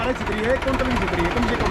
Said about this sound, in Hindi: ट्रैक्टर भी ज्यादा आवाज नहीं कर रहा